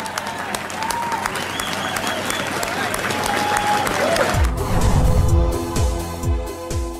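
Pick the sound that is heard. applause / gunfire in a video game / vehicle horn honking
applause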